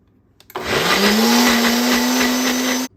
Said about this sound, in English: give it a good blend